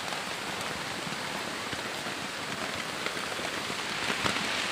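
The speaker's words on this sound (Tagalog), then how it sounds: "So sobrang lakas ng ulan sa labas mga tol." Heavy rain pours steadily outside an old hut, a dense continuous hiss of drops drumming on surfaces with no pauses, loud and close throughout.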